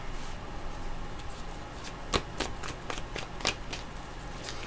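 Tarot cards are shuffled by hand, a soft continuous riffle broken by a series of crisp snapping flicks, close and quiet with no talking.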